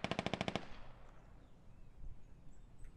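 A rapid, loud burst of automatic gunfire, about seven quick shots, from a military video game battle, followed by a faint, rumbling battlefield ambience.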